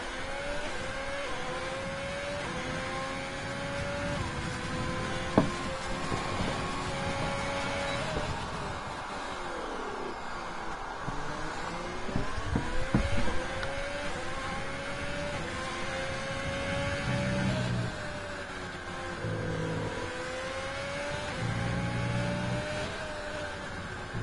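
A race car engine howls through an onboard lap of a racing video game at a GP1 round in Austria, its pitch climbing and dropping steadily through gear changes and corners, loud and close throughout.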